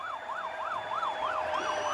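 A fire engine siren wails at a soapbox race crash scene, a clear up-and-down warbling tone repeating steadily at moderate distance over background noise.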